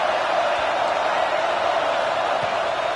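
Football stadium crowd roaring on third down, a steady, dense wall of massed noise with no breaks, heard from within the stands.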